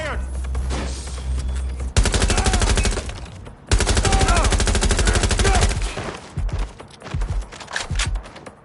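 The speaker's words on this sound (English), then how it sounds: "Watch out! Shots fired!" Gunfire in the Watch Dogs Legion video game: loud dense bursts of automatic fire in two long volleys, with shouted voices and scattered single shots between and after.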